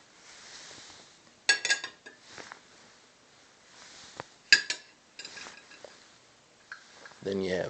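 Dinner plates and silverware cleared from a set table: scattered clinks and clatters of cutlery against china, several sharp knocks spaced apart, with a voice speaking throughout.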